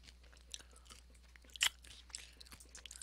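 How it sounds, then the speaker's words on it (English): Doritos chips are eaten close to the microphone: scattered crisp crunches and chewing bites, with one loud sharp crunch in the middle, against a quiet low hum and no speech. "that is me eating Doritos"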